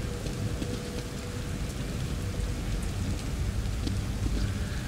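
Steady rain pours in The Evil Within video game, a dense, even hiss of falling water with faint low rumbles beneath, continuous and close throughout with no talk.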